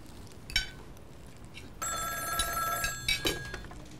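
An old-style telephone bell ringing in a room, a few bright metallic rings with short gaps between them, moderately loud, with no talking.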